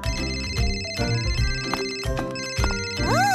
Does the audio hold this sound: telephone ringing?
yes